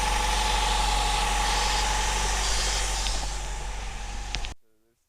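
Manual JDM RA1 Honda Odyssey with a swapped H23A VTEC engine idling steadily up close, a smooth continuous hum that cuts off abruptly near the end.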